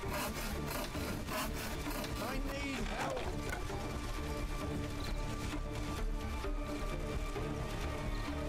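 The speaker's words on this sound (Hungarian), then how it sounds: "itt el kell fűrészelni az állványt." A wooden stand is sawed through in the Sherlock Holmes: The Devil's Daughter video game, a rhythmic back-and-forth rasp of saw strokes repeating steadily at moderate loudness over a continuous game background.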